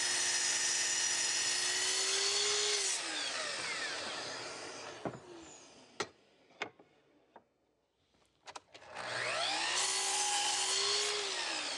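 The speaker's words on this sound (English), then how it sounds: "set up a stop block, cut these 2 pieces" A power tool whines steadily while cutting wooden pieces for a folding chair, stopping midway for a few sharp knocks and taps before the cutting resumes loud and close.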